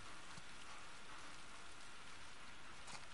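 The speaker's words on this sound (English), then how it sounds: "Is that this rain on metal?" Steady rain drumming on metal in The Last of Us Part II, a continuous even hiss of drops with no break, heard alone at close range.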